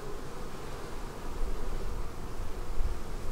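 Honey bees buzz around an open hive in a bee yard, a dense, steady drone close by with soft rustling and no voices.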